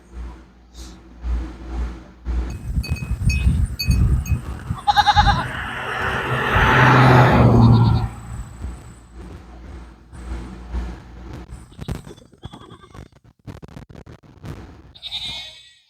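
Goats bleat repeatedly, some calls near and loud and others fainter, with intermittent bursts across a stretch of rustling and a passing engine-like swell midway.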